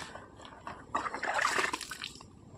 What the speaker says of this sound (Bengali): একটু মিথ্যে মিথ্যে করে জলটা ঢেলে নিই